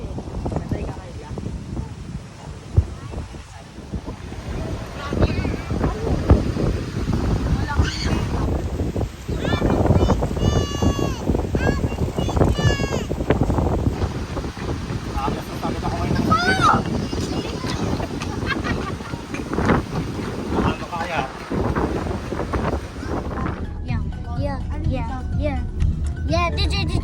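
Strong wind at Sampaloc Lake buffets the microphone in loud, rough gusts as people talk nearby over the roar.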